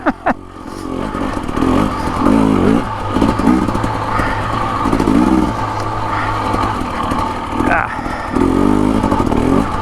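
Husqvarna TE250/TE300 dirt bike climbing Kelly Canyon single track near Flagstaff, Arizona, its engine revving and surging loudly up close, rider talking over the engine noise.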